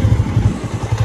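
A motorcycle engine idles or runs at low speed close by, a loud, steady, throbbing putter with rapid regular pulses.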